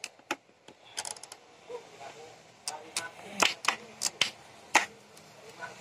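A KYT Galaxy helmet's visor ratchet mechanism is pressed to release, giving a series of sharp, close plastic clicks and snaps at uneven intervals.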